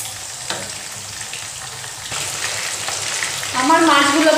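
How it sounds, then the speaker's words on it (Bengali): Hilsa fish pieces fry gently in a pan, giving a continuous close sizzle and crackle. The sizzle swells louder near the end, and faint tonal sounds rise over it. "মাছগুলো বেশি কড়া করবো না, একটু হালকা করে এপিটুপিট করে ভেজে নেব।"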